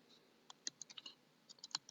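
Quick bursts of computer keyboard typing, faint and close, irregular clusters of light key clicks with brief pauses between, no voices.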